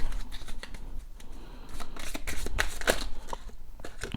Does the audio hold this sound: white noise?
no